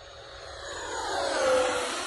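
An E-Flite SU-30 radio-controlled jet with twin 70mm electric ducted fans flies past, its steady whooshing whine swelling toward a peak near the middle and then easing slightly, heard alone without talk.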